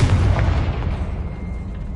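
A Confringo blasting spell explodes in the Hogwarts Legacy video game, one heavy boom at the start that rolls off into a decaying rumble, close and loud, with no voices.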